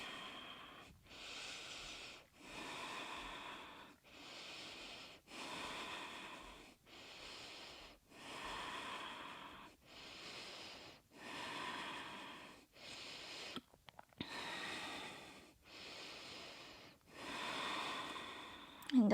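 Slow, deep breaths during a dynamic yoga session for shoulders, arms and back, each long inhale or exhale separated by brief pauses in a steady rhythm, close and fairly quiet.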